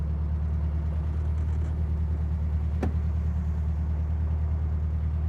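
A 2011 Volkswagen dune buggy idles steadily up close, a smooth low rumble with no sputtering and one brief click midway.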